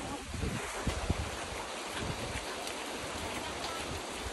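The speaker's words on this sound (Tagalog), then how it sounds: "Sobrang lakas ng ulan mga pangga." Heavy mountain rain pounds steadily on a van, a dense, loud wash of drumming with scattered louder drops and no voices.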